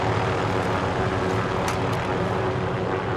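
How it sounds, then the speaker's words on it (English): Helicopter approaching in Call of Duty Warzone, a steady low engine and rotor drone filling the whole moment at fairly loud level, with no speech over it. "Helicopter"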